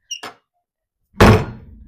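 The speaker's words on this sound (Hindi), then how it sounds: "ये बंद क्यों नहीं हो रहा दरवाजा?" A stiff door at home is pulled shut. A couple of small clicks come from the latch, then after a short pause a loud, close thud and rattle as it closes, fading over half a second.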